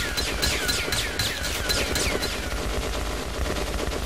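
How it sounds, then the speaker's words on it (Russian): Rapid bursts of gunfire in Metro: Last Light with sharp metallic ricochet pings, dense and loud, continuing throughout without any talking. "это был звук рикошета"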